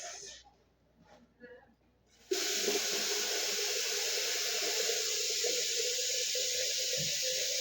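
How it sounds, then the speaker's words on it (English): After a quiet moment with someone speaking, water suddenly starts pouring into a pot for boiling eggs with a loud, steady rushing splash that continues unbroken. "Just adding the water to boil it."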